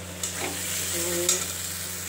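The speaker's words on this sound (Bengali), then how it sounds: "এই দেখুন, এখন কম মশলাটা কষা হচ্ছে।" A spice paste (masala) sautés and sizzles in a pan for a potato and lentil-fritter curry while being stirred, giving a steady close frying hiss with a faint scrape of stirring and no voices.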